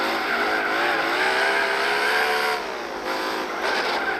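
A naturally aspirated V12 race car from Gran Turismo 4 roars at high revs, its engine tone rising steadily and then dipping briefly, loud and continuous with no talk.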